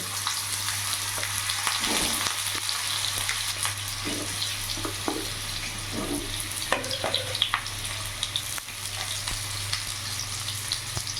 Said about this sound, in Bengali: ওই তেলের মধ্যে আমি আলুটাও ভেজে নেব।